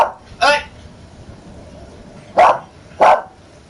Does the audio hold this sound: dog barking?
yes